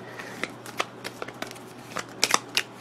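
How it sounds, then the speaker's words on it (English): A deck of game cards being shuffled at close range, with a quick series of sharp riffling snaps and flicks that grow louder toward the end. "give it a really good shuffle again"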